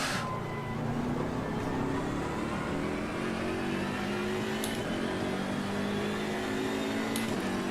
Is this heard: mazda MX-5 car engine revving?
yes